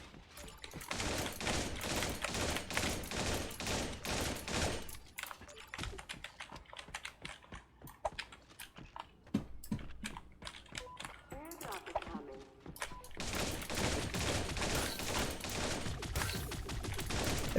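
Bursts of rapid gunfire in the battle-royale shooter Creative Destruction, dense crackling volleys that come and go in clusters, with quieter gaps between them and some talk mixed in.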